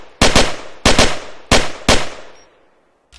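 Four short bursts of rapid automatic fire from a gun mounted on a World War II half-track vehicle in the game Arma 3, loud and close, each burst ringing out into a decaying echo before silence.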